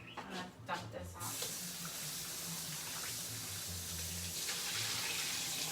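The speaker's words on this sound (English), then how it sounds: "I usually just use cold water and just kind of wait till the ice falls off" Cold tap water runs steadily over frozen shrimp in a kitchen sink, a continuous near splashing gush that starts after a few brief clatters and continues to the end.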